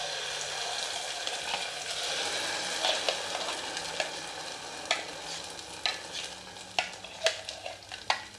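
Ground paste being stirred into a pot of boiled vegetables and their cooking water for a homemade vegetable soup, with a steady wet sizzle and a run of sharp spoon scrapes and clicks that comes faster toward the end, with no talking.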